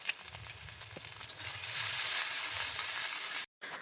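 Masala fries in a pan with a steady, close hiss and crackle that swells in the middle, then cuts off briefly near the end.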